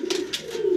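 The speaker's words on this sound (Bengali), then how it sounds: "খুবই সুন্দর বিগ সাইজের কবুতর" A grizzle racer pigeon gives a short, low coo at close range, with two brief breathy bursts over the steady tone.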